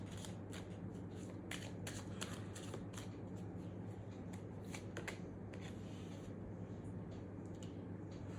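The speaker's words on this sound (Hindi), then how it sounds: "ओके, एक कार्ड और निकालते हैं।" Tarot cards are shuffled by hand in quick bursts of crisp riffling clicks and flicks over a low steady hum, close and fairly quiet.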